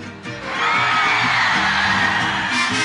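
At a live mariachi concert the crowd shouts on cue, a sustained, dense roar of many voices yelling together that swells loud and holds for a couple of seconds.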